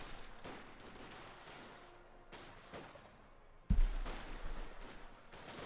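G43 rifle fire in the Company of Heroes 2 strategy game: sparse, faint distant shots in a battle ambience, then one louder close crack near the end.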